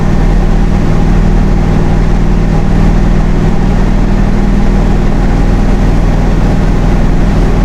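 Lifted 1982 Chevy half-ton truck with an LS engine swap and knobby all-terrain tires cruising at 55 mph around 2,400 RPM, a loud, steady low engine drone mixed with road and wind rumble, unbroken throughout.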